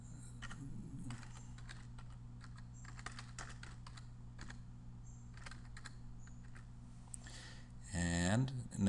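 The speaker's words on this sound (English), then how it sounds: "I'm just going to type this horizontally for starters." Someone types on a computer keyboard in quick, uneven bursts of soft clicks, close and fairly quiet. A voice talks over the keys, and a louder clatter of keystrokes comes near the end.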